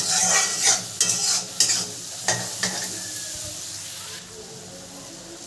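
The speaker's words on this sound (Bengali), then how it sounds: "অল্প অল্প করে নারকেলের দুধটা দিতে থাকবো আর নাড়তে থাকবো।" Prawn malai curry with coconut milk is stirred in a hot pan, with a spoon scraping and clacking in a few irregular strokes over a steady close sizzle that softens toward the end.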